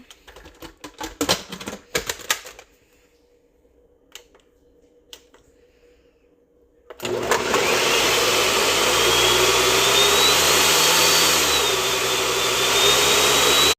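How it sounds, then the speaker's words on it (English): A few seconds of clattering and tapping, then a small blender kicks on and whirs loudly and steadily until the end, pureeing tomato and garlic. "if I can figure out how my little blender works with one hand"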